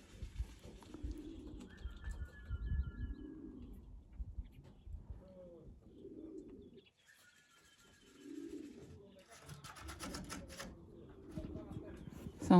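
Soft cooing of young pigeons in a loft repeats close by, with occasional higher chirps and rustling, mixed with quiet background noise and a brief lull in the middle.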